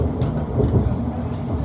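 A Class 701 electric train runs out of London Waterloo, giving a steady low rumble of wheels and carriage noise with no voices, heard from inside the train.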